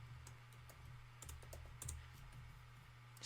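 Soft, quiet keystrokes of typing code on a computer keyboard, irregular clusters of light clicks over a low steady hum, close but faint.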